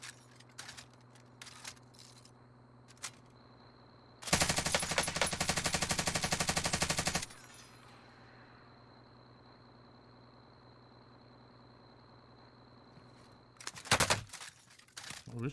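Automatic gunfire in the shooter Warzone: a long, loud sustained burst of rapid shots lasting about three seconds, with scattered single distant shots before it and another short burst near the end over a steady game hum.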